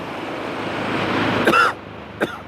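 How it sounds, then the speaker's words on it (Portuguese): A couple of short, close coughs break through steady road and traffic noise: one harsh cough, then a quicker, smaller one a moment later. "Desculpa a tosse."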